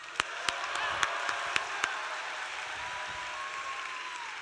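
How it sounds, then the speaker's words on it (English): Audience clapping at a leadership academy event, a soft, distant wash of applause with a few sharp, louder claps close by standing out in a loose rhythm early on before the sound settles into an even patter. "So clap it up."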